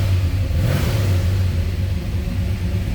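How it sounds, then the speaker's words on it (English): A 1966 Dodge Charger with a 426 Hemi V8 revs after a cold start, giving a deep, steady rumbling idle with one brief swell of revs, loud and close, with no talking. "That was a cold start."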